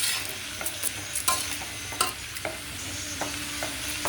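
Onions frying with salt and turmeric sizzle steadily in a pan while a spoon stirs them, giving repeated sharp scrapes and clinks close by, with no voices.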